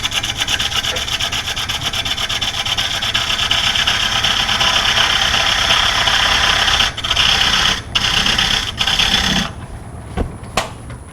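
A wood lathe cuts a dovetail tenon on a chip and dip bowl, a steady, loud rasping scrape of the tool against spinning wood that runs unbroken, then stops and starts in short bursts near the end.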